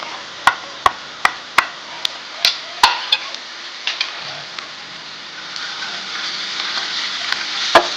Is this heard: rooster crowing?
no